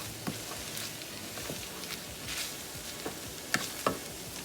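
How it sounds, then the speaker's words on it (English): Vegetables frying in a pan on medium heat, a soft steady sizzle with occasional sharper crackles and pops, fairly quiet and heard without talking. "We're going to cook this on medium until the veggies are softer."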